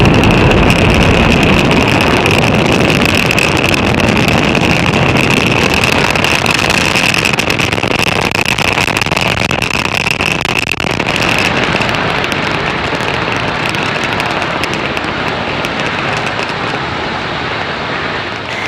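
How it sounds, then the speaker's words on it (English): Falcon 9 rocket lifting off from Space Launch Complex 40 at Cape Canaveral Space Force Station, Florida, carrying the Thuraya 4 satellite: a steady, loud, broadband roar that holds throughout and eases slightly toward the end, with no talk. "Falcon 9 has successfully lifted off from Slick 40 at Cape Canaveral Space Force Station in Florida."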